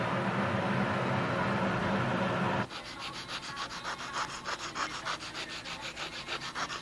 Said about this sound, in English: What's handy here is a dowel with a piece of sandpaper taped to it, just to work on that opening.